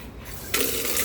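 Water pours into a clay pot, the flow starting abruptly about halfway through as a steady, close, splashing rush that continues to the end.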